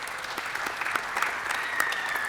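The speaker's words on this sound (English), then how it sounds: "Please give him a round of applause, everybody." A seminar audience applauds Rob Lewis with brief, steady clapping at moderate volume, a few sharper claps and faint whistles poking through.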